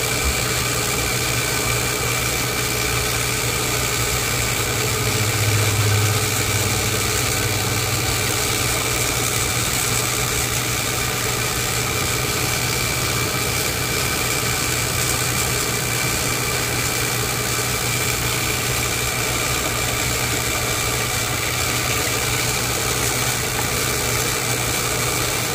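A line-spooling machine runs steadily, winding 130 lb hollow-core braid onto a Penn International 130VLS reel, a continuous motorized hum with fixed tones and a brief swell in the middle, no talking.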